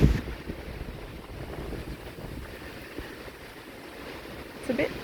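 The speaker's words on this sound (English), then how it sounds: "It's a bit windy and cold and wet." Low, rumbling wind buffets the microphone throughout in cold, wet weather, a steady blustery roar with a few stronger gusts near the start and end.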